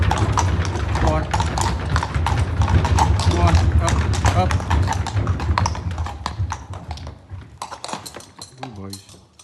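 Horses' hooves clip-clop steadily as the animals walk down into a town stable yard, with a constant background rumble and some clinking, then the footfalls thin out toward the end.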